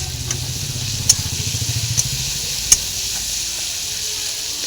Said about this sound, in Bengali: মশলাটাকে এরকম ভেজে সুন্দর করে নিতে হবে।